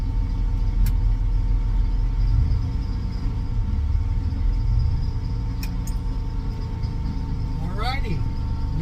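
A 1954 GMC COE truck engine rumbles steadily from inside the cab on a test drive, a constant low road and engine drone with faint rattles and a brief rising whine near the end.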